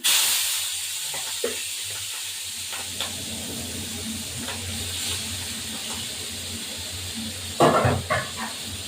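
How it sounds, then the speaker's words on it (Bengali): Large prawns frying in a pan give a steady, close hiss and sizzle, with a few soft knocks and a louder clatter of utensils near the end. "এবার আমি চিংড়ি মাছটা দিয়ে দেবো ভাজা।"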